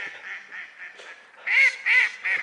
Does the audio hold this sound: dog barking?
no